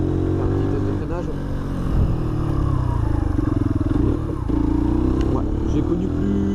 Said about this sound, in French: Un petit test de freinage.